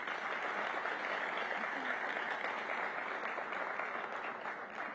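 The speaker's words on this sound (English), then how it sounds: "So please give her a round of applause for this." An audience at a community event on Black homeownership in DC breaks into steady applause, a continuous, even roar of many hands heard from a slight distance that fills the room without a break.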